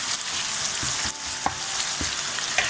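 Ginger and spices fry in hot oil with a dense, close sizzle, punctuated by a few light clicks and scrapes of a stirring utensil against the pan.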